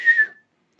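A person whistles a short, high, slightly wavering note that imitates a distant whistle, lasting under half a second and then cutting to silence.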